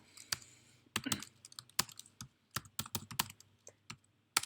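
Sparse keystrokes on a computer keyboard while entering numbers into a matrix, crisp separate clicks in irregular bursts with short pauses, close and quiet, with no talk.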